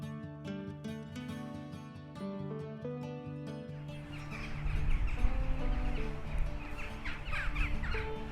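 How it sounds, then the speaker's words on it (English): Crows cawing around a town, heard as scattered, moderately loud calls over outdoor background noise in the second half, after a passage of melodic music. "A lot of crows in this town."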